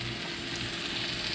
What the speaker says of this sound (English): couple minutes on each side really is enough for me once they're sizzling.